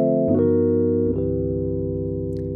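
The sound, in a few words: 2-5-1 chord progression on keyboard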